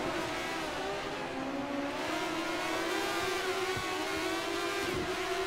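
A Ferrari F1 87/88C racing car engine in the video game F1 2013 at Imola drones steadily at high revs throughout, with a continuous whine and a few faint pops and crackles near the end.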